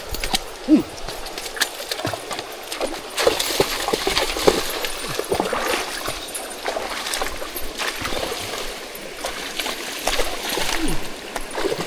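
Horses wade into a deep river near Tayabas with splashing, sloshing water and scattered knocks from hooves and tack in an irregular rhythm, close by and moderately loud, with no clear talking.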